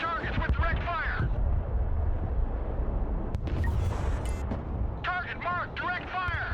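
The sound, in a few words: artillery direct fire in the video game Broken Arrow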